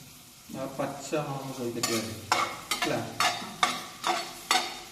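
Sliced onions sauté in a pan, a building sizzle with a rhythmic series of sharp scraping stirs recurring about every half second.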